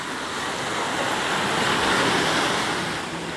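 Sea surf washing onto a beach at Ternate in Cavite, a continuous loud roar of breaking waves mixed with wind buffeting the microphone, with no voices.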